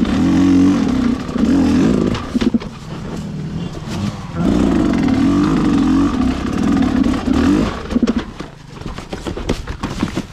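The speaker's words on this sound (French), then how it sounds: "pour cette première sortie j'ai voulu tester la Riju avec toute sa puissance" A Rieju MR 300 motorcycle engine under hard acceleration on a first ride, the carburettor freshly adjusted, roaring loud and close for most of ten seconds with steady revving, brief dips near 2.5 and 4.4 seconds and a fading drop toward the end.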